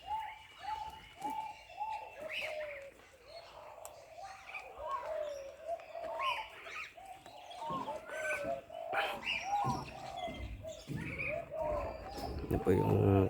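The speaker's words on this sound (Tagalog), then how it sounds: "O pigeon din po yan." Wild pigeons cooing repeatedly in a marsupial park, soft rhythmic calls one after another at moderate distance, with other birds and rustling around and someone talking.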